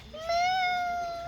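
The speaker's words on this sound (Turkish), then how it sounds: "sabahtan beri yavru kedi miyavlaması geliyor" A kitten gives a single drawn-out, high-pitched meow that rises and then slowly trails off, loud and close, with a little faint background noise.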